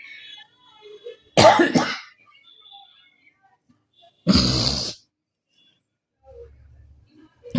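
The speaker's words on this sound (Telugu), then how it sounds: "దగ్గు ఒకటి వస్తుందండి బాగా" Two loud, harsh coughs burst out a few seconds apart, close by, with quiet stretches and faint rustling between them.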